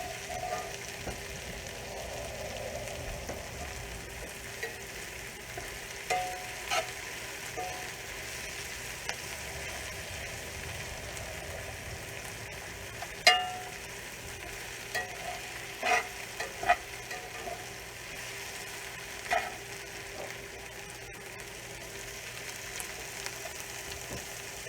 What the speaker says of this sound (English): should cook the onions about 5 minutes or so